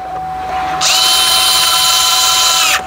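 A big DeWalt drill on a low torque setting drives 7 mm screws into a GMC Yukon instrument cluster, its high whine starting abruptly and holding steady for about two seconds before cutting off, loud and close.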